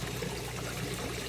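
Water trickles and splashes steadily as it recirculates through the filter of a concrete crayfish pond, a close, even flow with no voices.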